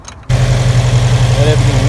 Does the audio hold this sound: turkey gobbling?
no